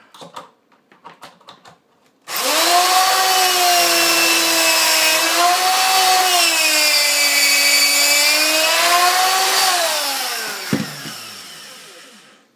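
A power drill whines steadily for about eight seconds, its pitch dipping and rising as it bores a pocket hole into wood using a jig, then winds down, preceded by a few light clicks.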